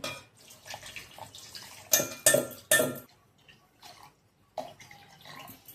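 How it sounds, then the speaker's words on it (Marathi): Cold milk poured from a vessel into a homemade chikoo shake in a home kitchen, a short run of splashing pours with a few louder bursts of liquid and clinks against the container, then quiet. "आणि हे थंडगार दूध घालणार आहे"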